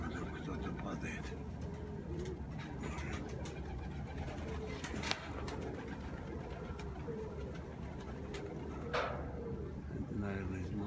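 Pigeons coo in soft, repeated throaty calls amid steady background noise and low mechanical hum, with occasional wing flaps and rustles, and someone talks over them.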